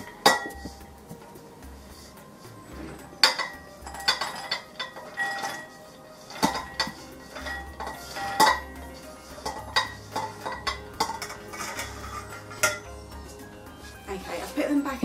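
Roasted peanuts are scraped and tipped from a pan into a heat-proof bowl, giving a run of light metallic clinks, scrapes and rattles in irregular bursts, fairly close and moderately quiet, with a voice talking in between.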